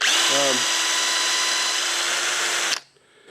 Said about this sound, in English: then I'll drill the other one so that way I can make sure that they're lined up well.